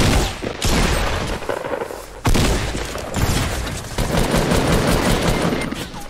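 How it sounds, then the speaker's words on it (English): Sustained minigun fire in the Fortnite video game, a loud continuous rattling burst that runs almost the whole time with one brief break, with no voices over it. "That's my minigun."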